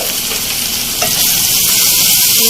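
Potatoes sizzle and hiss steadily in a hot pan as turmeric, ground chili and crushed chili are stirred through them for aloo bhujia, with a loud, continuous frying hiss and one brief scrape of the spoon.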